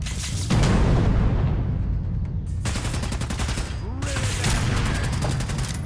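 Enemy gunfire in Fallout 4's Nuka World rattles in loud rapid bursts, dense automatic volleys separated by brief gaps, with faint game voices underneath.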